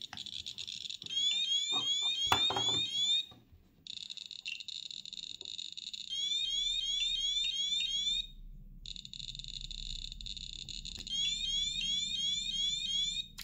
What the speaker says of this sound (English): So that's the alarm going off